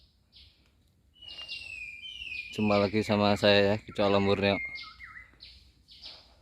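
A white-rumped shama (murai batu) on Gunung Pintu Angin, a mountain, gives short bright chirps and whistles at moderate distance, before and after someone speaks over it.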